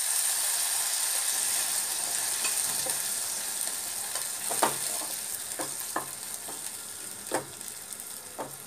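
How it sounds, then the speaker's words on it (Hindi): Tomato puree and masala fry steadily in oil, a continuous close sizzle broken by scattered spoon scrapes and knocks against the pan while soya chaap is cooked. "जब तक मसाले जो है ऑयल ना छोड़ दें, तब तक हमें इसे फ्राई करना है।"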